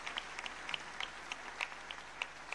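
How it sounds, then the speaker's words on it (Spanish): Congregation applauding the Lord during an evening church service, a thin, distant patter of scattered claps running steadily throughout at low level, with no speech. "Le brindamos un fuerte aplauso en esta noche al Señor"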